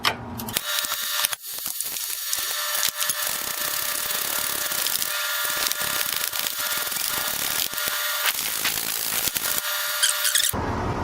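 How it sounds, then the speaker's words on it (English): A power tool spins off the 14mm upper strut nuts on a 2000 Toyota 4Runner during a lift kit install, loud harsh whirring bursts broken by a few brief pauses, with metallic clatter between. "Now we're going to remove the three 14mm nuts that hold the top of the strut in."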